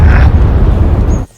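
A loud, close grenade explosion during a Nerf gun war, a single heavy low rumbling boom lasting about a second before cutting off abruptly.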